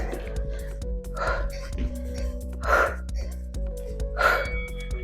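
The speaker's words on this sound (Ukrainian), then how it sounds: "Видих." Sharp, breathy exhales during an abdominal workout come in three bursts, each a few seconds apart, over steady background music.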